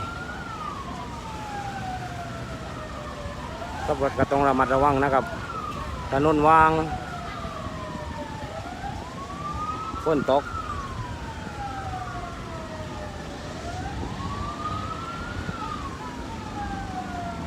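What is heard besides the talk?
fire truck siren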